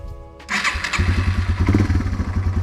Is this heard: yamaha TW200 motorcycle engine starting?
yes